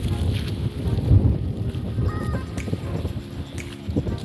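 Gusty wind on the seawall in Tabaco City buffets the microphone in uneven low rumbles, fairly close and loud, with faint background activity.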